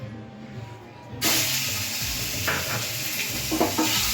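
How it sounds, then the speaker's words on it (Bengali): Small boal fish rubbed with salt and turmeric hit hot oil in a kadai: quiet at first, then a sudden loud burst of hissing sizzle that carries on strongly with bubbling crackle. "কড়াই বসিয়ে তেল গরম করে নিয়েছি, আর এবার হচ্ছে যে নুন হলুদ মাখিয়ে রাখা ছোটো ছোটো বোয়াল মাছগুলোকে ভেজে নেব।"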